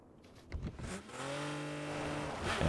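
A vehicle in PUBG drives fast in reverse across the snow. A few brief thumps give way to a rising engine whine that holds steady and loud near the player.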